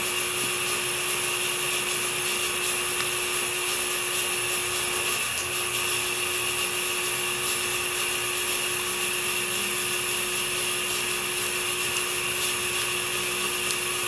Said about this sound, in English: that's nothing but a fog machine and regular ice